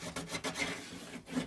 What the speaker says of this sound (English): take your bone folder, give it a rub in there.